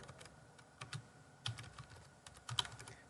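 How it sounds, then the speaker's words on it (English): Quick, light keystrokes on a computer keyboard tap out a short burst of typing, close and quiet, with irregular clicks and no voices. "click in the search box for Amazon and type laptop computer"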